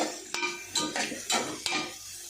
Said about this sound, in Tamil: சாப்பாடை போட்டு கிண்ட வச்சுக்கப்பா